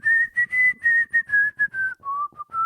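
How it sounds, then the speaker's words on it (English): A person whistles a dance tune alone in a series of clear, close, rhythmic phrases, each note held briefly before the melody drops lower near the end. "Can I whistle this one?"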